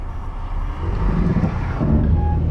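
A Dodge Caravan engine, put in drive with a rear O2 sensor fault under test, rises into a steady low revving rumble under throttle, building slightly louder midway and holding close and continuous with no talk.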